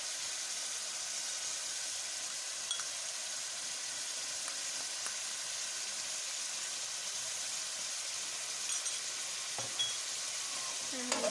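Chopped tomatoes with salt fry in a pan for mutton keema, a steady soft sizzle with occasional light scrapes and clicks of stirring, no talk.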